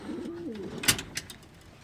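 A soft pigeon coo rolls low in the background, with a few brief clicks and rustles layered over it.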